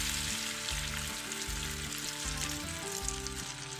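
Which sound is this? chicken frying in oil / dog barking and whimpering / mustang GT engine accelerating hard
chicken frying in oil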